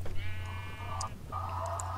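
Sheep bleating in the Minecraft video game, a couple of short wavering bleats over a steady low game hum, with a brief pause between them and no talk over the calls.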